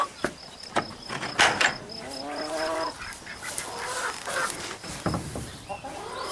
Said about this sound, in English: These are the 2 roosters that I kept.